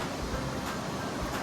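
A mountain stream (khola) of clear water rushes steadily nearby, a continuous broadband hiss with no pauses or talk over it.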